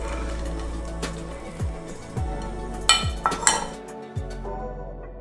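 Tomato, potato and onion pieces drop one after another into a metal soup pot for oxtail soup, making several close clinks and soft splashes at irregular intervals.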